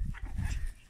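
Chihuahuas or Keeshonds at a licensed breeding kennel bark outdoors around a backyard climber, with several short, fairly loud yaps packed into one second.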